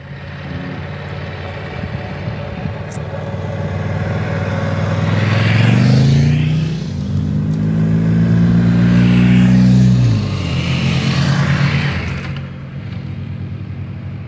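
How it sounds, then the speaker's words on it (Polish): Motor vehicles pass by on a Montenegrin panoramic mountain road, engines swelling loud and close around the middle and fading again, with steady background engine rumble throughout. "A tu już jacyś koledzy jadą na motorach."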